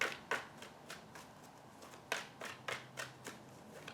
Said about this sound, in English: Shuffling out the energies of the cards.